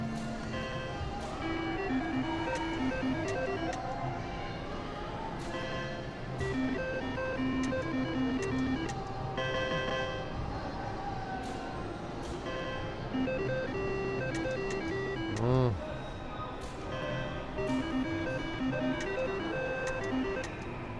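A Double Diamond slot machine in a casino spins, its reels chiming and beeping in repeated melodic electronic tones over a steady background hum.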